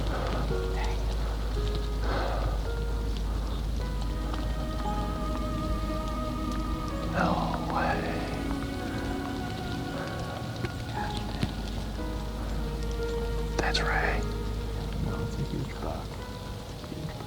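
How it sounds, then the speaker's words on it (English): Steady rain falls over an open field during a deer hunt in November, a continuous hiss with scattered drops and some faint background sounds throughout. "The rain picked up."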